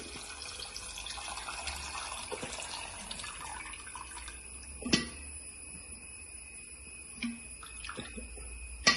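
Tap water running steadily into a cooking pot as mutton soup is started, a soft continuous hiss with a few louder splashes and knocks near the end, heard close up with no talk.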